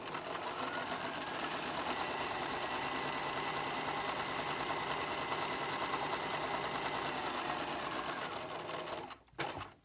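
A sewing machine runs a long basting stitch for gathering fabric, a steady close whirring hum that carries on without pause for nearly ten seconds before stopping abruptly.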